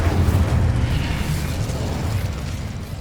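Casting the Incendio fire spell in the Hogwarts Legacy video game gives a loud whooshing burst of flame that roars up at once and then fades slowly.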